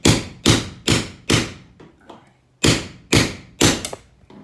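Chisel chopping off rivets: loud, close metallic thuds struck in an even rhythm, four blows, a short pause with faint clatter, then three more blows, each decaying quickly.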